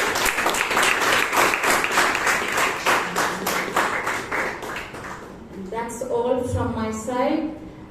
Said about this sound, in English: please give her a huge round of applause for that